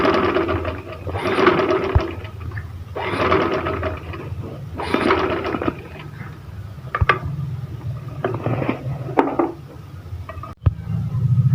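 Sewing machine stitching a trouser design on fabric with ordinary fabric-coloured thread, several rhythmic runs of rapid needle clatter separated by short pauses, close and clear with no voices.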